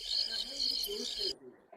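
A cricket chirps in rapid, high trills through the background of an indoor live stream, faint and steady beneath people talking, then stops abruptly.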